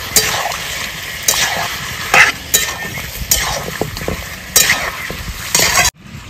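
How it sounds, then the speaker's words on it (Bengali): Mutton stirred in a pan with ginger-garlic, cumin and dried red chilli pastes, loud close sizzling under repeated scraping and clinking spoon strokes, with no talking, ending abruptly. "আদা রসুন বাটা, জিরে বাটা, শুকনো লঙ্কা বাটা, সব কিছু দিয়ে সুন্দর করে মিশিয়ে নেব।"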